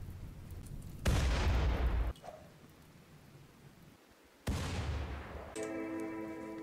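Grenades fire and explode in the colony game Rimworld: two sharp loud blasts a few seconds apart, each with a decaying rumble, the second followed by a ringing tonal effect.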